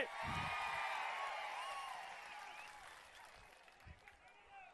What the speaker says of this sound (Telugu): గట్టిగా చప్పట్లు కొట్టి నిరసన తెలియజేయండి